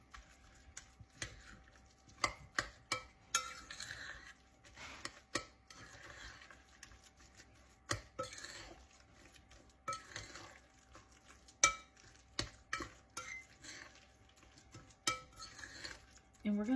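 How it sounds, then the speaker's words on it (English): Salmon patty mixture being stirred in a bowl with a utensil, soft mushy stirring broken by repeated sharp clicks and knocks against the bowl, close and quiet, with some faint talk. "we're just gonna kind of stir this up"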